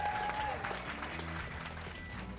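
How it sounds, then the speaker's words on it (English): Studio audience applause for the Pointless crew at a live event, a steady wash of clapping under a sustained musical tone and a low hum, moderately loud throughout. "One more round of applause for our Pointless guys."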